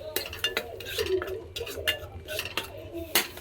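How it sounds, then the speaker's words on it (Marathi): Marinated paneer masala frying in oil in a pan, heard as a low sizzle under repeated close clinks and scrapes of a spoon stirring against metal, in an uneven rhythm. "मसाला केलेला तो आता फ्राय करते तेलामध्ये"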